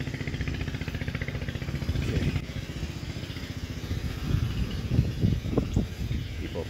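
A loud, rough Onan 3.0 DJA generator engine chugs steadily with no muffler nearby under load test, its pulsing rumble rising a little toward the end.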